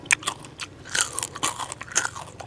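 Close, crisp crunching of crispy fried fish while eating, several quick bites and chews in a row with no talking.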